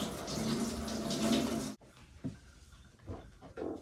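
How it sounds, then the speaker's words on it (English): A sink tap runs in a loud, steady gush while hands are washed, then stops abruptly, leaving a few small splashes and handling noises. "Actually, just gonna wash my hands."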